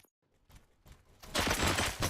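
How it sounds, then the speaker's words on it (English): Gunfire erupts in the RoboCop Rogue City video game: after a near-silent start and a few softer thuds, dense, loud bursts of shots fill the last second, with no talking. "Gunshots? What's going on?"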